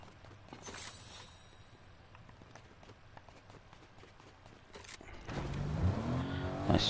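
A car engine in the video game Fortnite rumbles faintly at first, then swells loudly as the vehicle starts driving and accelerates, close and growing stronger toward the end.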